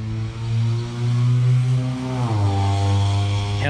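A loud, droning engine exhaust from a passing vehicle roars close by, its steady note dropping in pitch as it goes past.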